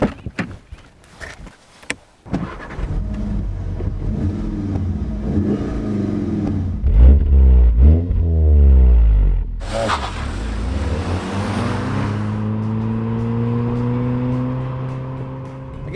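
A 2018 Volkswagen Golf R engine revs and accelerates hard on a road, pitch climbing through gear changes, then settles into a loud sustained drone, close by.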